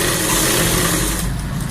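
Sewing machine running steadily as it stitches a shirt placket, a continuous close whir with a droning hum that eases slightly near the end, no talking.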